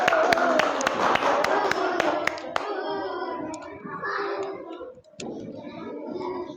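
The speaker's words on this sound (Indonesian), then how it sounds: "Beri tepuk tangan." Students in a classroom clap together, a burst of sharp, close hand claps that thins out into scattered taps, with children's voices chattering underneath.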